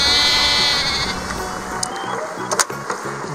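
Sheep bleat from a toddler's sea-animals electronic toy, a nasal toy-speaker bleat sounding alone, followed by several short clicks and button taps.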